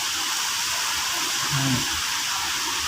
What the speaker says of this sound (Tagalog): Lakas ng ulan po dito sa amin.